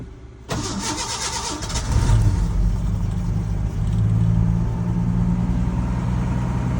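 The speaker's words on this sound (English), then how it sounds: "Old 300 straight 6, 1986 Ford F150. I literally gave her like 3 pumps of gas." A 1986 Ford F150 with the 300 straight-six cranks briefly and fires on a cold start, then settles into a steady, loud, low idle with a slight rise in revs.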